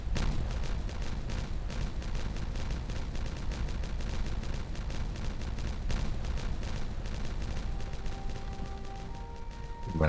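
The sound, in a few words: explosions from detonating dynamite in the video game Timberborn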